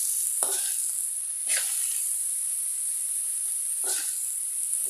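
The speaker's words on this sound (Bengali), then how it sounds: "নেড়ে চেড়ে ভাজা ভাজা করে নিতে হবে" Fenugreek greens fry in a pan with a steady high sizzle, broken by three short scraping stirs spread through the moment; no talk.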